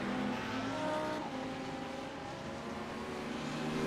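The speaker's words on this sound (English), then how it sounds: "Just seeing the cars going by." Race cars in a racing video game at Monza sweep past, engines droning and shifting pitch as they go by, a steady continuous motor roar at moderate level.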